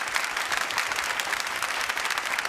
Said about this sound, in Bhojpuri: एगो किसान भाई लोगन के लिए समस्त भोजपुरिया जहान एगो ताली बजाई जोरदार